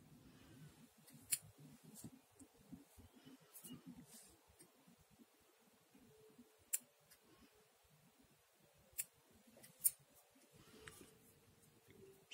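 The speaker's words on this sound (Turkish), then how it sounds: "Şu fazlalığı şuradan hemen kesiyorum görüntüyü bozmasın diye." Scissors snip off excess craft material in a few sharp, close cuts spaced apart, over a quiet background with faint handling noises.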